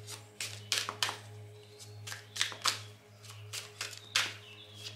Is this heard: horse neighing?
no